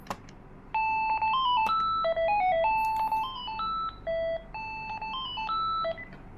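Keypad tones from a telephone handset, pressing star and zero among a run of clear dialing beeps of varying pitch, each held briefly with short gaps, loud and close with no talking.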